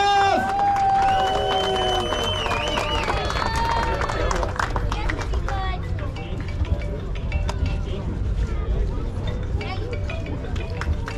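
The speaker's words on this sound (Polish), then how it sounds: "Jeszcze raz wielkie brawa." Rally spectators at a stage of the Nysa rally clap and cheer in a continuous dense wash of applause and crowd noise, with whistles and a voice over a loudspeaker rising above it.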